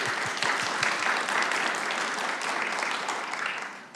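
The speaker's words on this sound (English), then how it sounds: "Can we get one last round of applause for all of our speakers?" An audience at a student success talk event gives a final round of applause for the student speakers, dense sustained clapping, fairly distant and steady, fading slightly at the end, with no voices over it.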